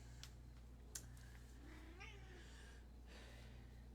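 A pet cat meowing indoors, soft drawn-out meows that sit faintly above a steady low hum.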